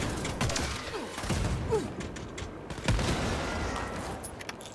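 Gunfire from Wolfenstein: Youngblood cracks in a fast, scattered fusillade of sharp shots and thuds, loud and close over mechanical clatter, with no talking.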